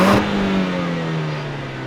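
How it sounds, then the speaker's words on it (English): A Jaguar XE P300 with a 2-liter four-cylinder engine revs briefly and then settles into a steady, smooth drone, heard close and alone. "it's a 2-liter 4-cylinder. Like, it sounds okay, doesn't crackle and pop."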